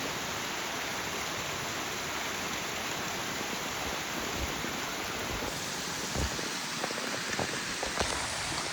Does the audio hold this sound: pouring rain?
yes